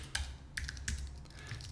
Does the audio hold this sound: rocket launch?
no